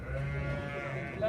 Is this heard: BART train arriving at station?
no